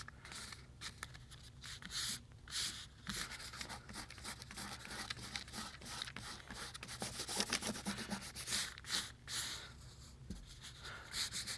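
A fingertip rubs across watercolor paper to find leftover dried masking fluid, making a soft, continuous dry scuffing that is faint and close, with brief pauses between strokes.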